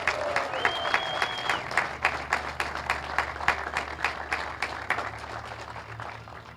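A gymnasium audience at a ribbon-cutting ceremony applauds a high school cheer team, with sustained dense clapping throughout and a few faint voices in the crowd.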